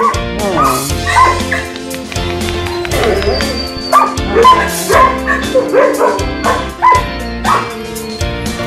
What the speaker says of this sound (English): we're going to transition to a little bit bigger dogs